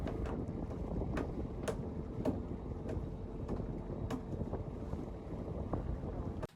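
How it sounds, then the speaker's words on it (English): A sailboat motors toward a beach on engine power after its sails are furled, giving a steady low rumble of engine and water with gusty wind buffeting the microphone throughout. "we rolled up the sails, put everything away, turned the engines on,"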